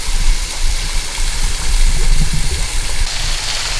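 A small, low-flow waterfall in Shawnee National Forest makes a loud, constant rushing splash with a rumbling low end, close up and unbroken, no speech.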